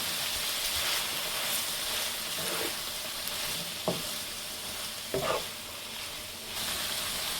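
Green chilies fry and get stirred in a hot pan for spicy fried rice, a steady loud sizzle with a few sharp scraping stirs, no voices.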